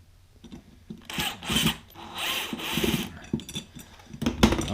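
Cutters snipping a plastic wall anchor flush in RV paneling: several short bursts of cutting and scraping close up, with rustling handling noise between them, no talk.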